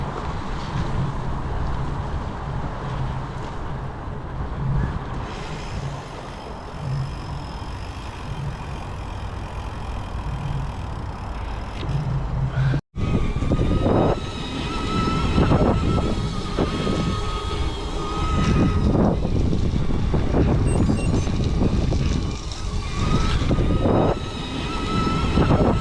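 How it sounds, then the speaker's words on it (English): Steady road traffic roars from the nearby M25 motorway, a continuous rushing drone heard from a gravel bike ride, with wind buffeting the microphone and a brief cut midway. "Sound of traffic."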